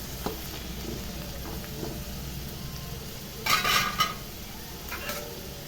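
Potatoes fry with masala and salt in a pan on a low gas flame, a soft steady sizzle with a couple of brief metallic scrapes and clinks of stirring near the end.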